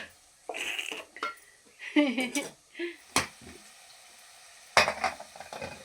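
Onion-tomato pav bhaji masala with coriander stirred in a pan, short bursts of scraping and clinking with a light sizzle, close and uneven, with a voice talking in between.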